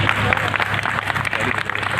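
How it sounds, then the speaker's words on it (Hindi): An audience claps at a school poetry recital held at a government girls' inter college in Kandhla, a dense, sustained round of applause with many hands close by and no talking. "कविता अंतर मंतर छू जाए तो तालियों से मेरा उत्साहवर्धन करना"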